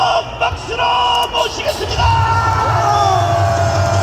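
Crowd of supporters at a Korean political rally cheering for a presidential candidate, loud yelling and whooping that swells into a sustained roar with a booming amplified voice mixed in.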